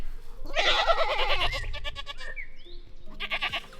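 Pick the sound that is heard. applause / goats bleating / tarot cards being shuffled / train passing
goats bleating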